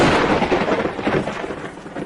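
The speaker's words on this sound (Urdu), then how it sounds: "اچانک آسمان پر آندھی چلی" A sudden storm effect in a narrated folk tale, a dense rumbling wash of wind and thunder-like noise that stays steady and fairly loud throughout with no voice over it.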